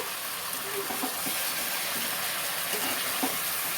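Pieces fried in a pan for butter chicken, a constant loud sizzling hiss with occasional faint stirring clicks, no talking.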